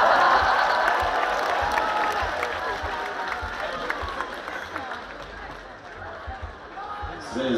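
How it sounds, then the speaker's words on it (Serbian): Audience applause and cheering at a concert, a dense roar of clapping and crowd noise that starts loud and slowly tapers off, with voices mixed in. "Aplauz za čale, hvala čale."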